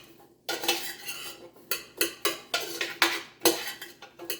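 A utensil stirs sliced onions and cabbage in a metal cooking pot, producing a string of sharp clanks and scrapes in uneven bursts about twice a second, close and fairly quiet with no talking.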